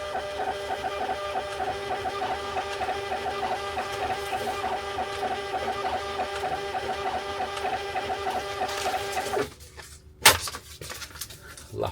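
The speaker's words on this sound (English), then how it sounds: "this is like a thermal printer, so I don't know if there's going to be any issues" A small thermal printer whirs steadily with a buzzing, rhythmic stepping tone for about nine seconds, then stops, followed by a couple of short clicks.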